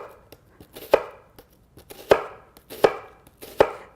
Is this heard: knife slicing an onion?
yes